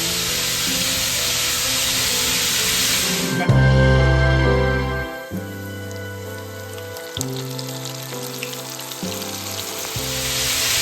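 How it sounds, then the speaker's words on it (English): Calamari rings coated in batter hiss and crackle steadily in hot oil as they fry, a loud continuous sizzle with busy spattering texture under a low background of music. "Let's fry the calamari."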